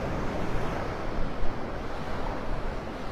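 Wind buffets the microphone in a dense roar over surf on the beach at Pelican Bay in North Naples, Florida, steady and close with slight gusts.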